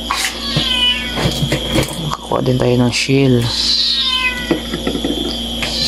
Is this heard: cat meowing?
yes